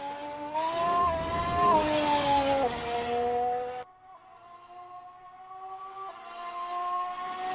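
A race car engine screams through a lap replay in Assetto Corsa, viewed from a track camera. The loud, steady whine climbs with sharp gear-shift drops, fades briefly as the car passes, then builds again with another shift.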